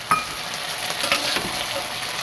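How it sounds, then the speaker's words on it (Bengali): Garlic fries in oil in a kadai while a spatula stirs it, a close, steady sizzle broken by a few scraping clicks of the spatula, with no talking. "আমি রসুনটাকে শেষে দিই এটা একটুখানি ব্রাউন ব্রাউন হবে"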